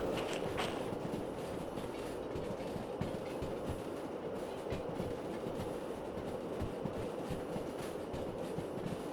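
A train rolls on rails in the Derail Valley video game, a continuous rumbling drone with faint rhythmic clicks of wheels over track joints, steady and moderately close throughout.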